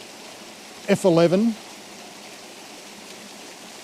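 A waterfall and stream on the South Lawson waterfall walk produce a constant broadband rush of flowing water, with someone briefly speaking over it.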